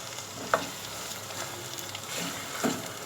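Diced tomato frying with garlic in a pan for dhaba-style chana dal, a soft continuous sizzle with a couple of brief clinks from stirring, quiet and without talk.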